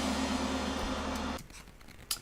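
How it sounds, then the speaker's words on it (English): Gong kit and cymbal samples from a music track ring out as a dense, sustained metallic wash with a low drone, then abruptly cut to a faint decaying tail with a soft hit near the end. "Kind of get these cool gong sounds in there."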